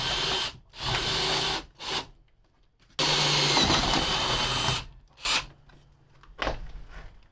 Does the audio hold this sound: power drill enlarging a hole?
yes